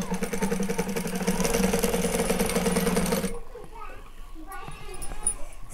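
A sewing machine stitches a waistband strip onto a blouse, running with a loud, steady rhythmic whir for about three seconds before stopping, followed by quieter background sounds and children's voices.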